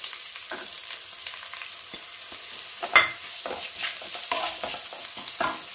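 Sliced onions and whole spices sautéing in a pan for green peas pulao, a steady soft sizzle broken by scraping spatula strokes and one sharper clatter midway, close and without talk.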